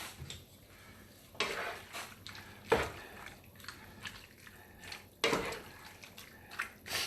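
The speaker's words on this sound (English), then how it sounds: "We're going to mix this around." Food being stirred in a pan after cheese is added, with soft scraping and a few louder clinks of a utensil against the pan at irregular intervals, close and fairly quiet, no talking.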